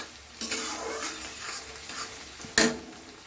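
Onions being stirred in a frying pan for an egg curry, a soft sizzle with scraping strokes of a utensil, one sharp clatter near the end.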